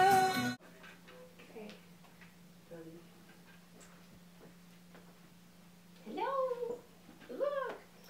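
A house cat about to be put into a cat carrier gives several meows, short ones early and two longer, louder wavering cries near the end, over a quiet room with a steady low hum.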